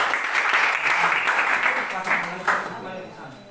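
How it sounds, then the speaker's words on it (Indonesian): A classroom audience claps for a student group, giving a short burst of steady applause that fades toward the end, with talking mixed in. "kita aplaus dulu untuk kelompok"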